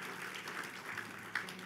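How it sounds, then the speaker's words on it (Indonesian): Church congregation clapping during a worship night, a faint, brief patter of applause that holds steady at low level. "tepuk tangan yang meriah bagi Tuhan Yesus"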